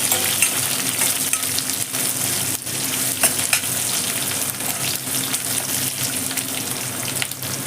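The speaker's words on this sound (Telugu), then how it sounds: "ఉల్లిపాయ సన్నగా కట్ చేసి వేసుకొని వేయించుకోవాలి." Thinly sliced onion fries in a hot oil tempering for brinjal dal, a loud, steady sizzle with crackling spatter and occasional stirring scrapes, close up with no talking.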